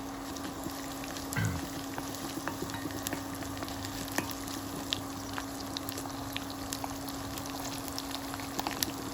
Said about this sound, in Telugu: ఎండుమిర్చి, ఎల్లిపాయలు, వెల్లుల్లిపాయలు, జీలకర్ర అండ్ తాలింపు గింజలు వేసుకుంటున్నాను